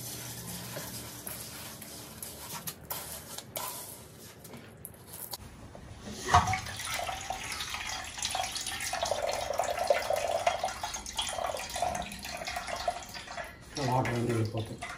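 Water drains as cooked jowar is strained through a cloth, a trickling, splashing flow that grows louder partway through, with a few drips and brief indistinct voices.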